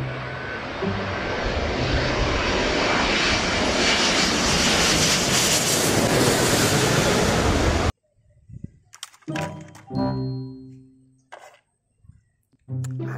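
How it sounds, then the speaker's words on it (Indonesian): An airplane engine roars loud and continuous for about eight seconds, then stops abruptly, leaving scattered quieter sounds. "Kalau yang ini pesawat terbang."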